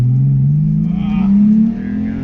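A Volkswagen car pulls away with a loud, close engine note that rises and shifts as it accelerates, continuing steadily for a couple of seconds.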